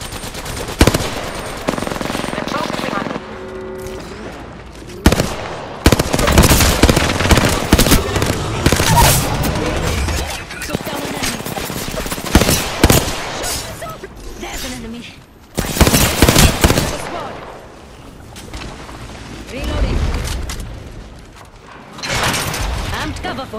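Rapid gunfire in the game Apex Legends from Rampart, loud automatic bursts that start, pause and resume in several long volleys, mixed with mechanical clicks and game effects.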